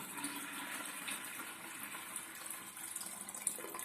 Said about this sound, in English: So I put a water tank and I add water directly to water tank.